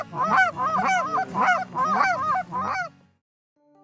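A flock of Canada geese honks loudly and close by in a rapid, repeating series of calls for close to three seconds, then falls silent; a voice speaks one brief word in the middle.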